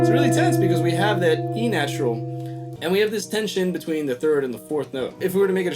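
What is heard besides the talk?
None of the usual background noises is heard.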